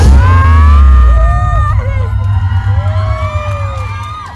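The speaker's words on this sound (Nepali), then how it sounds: "ओके, जोरदार ताली।" An audience at a stage show cheers loudly, with whoops, shouting and crowd noise swelling at first, then easing into continued cheering.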